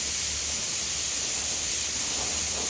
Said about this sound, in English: You don't want to spray this as dark as the other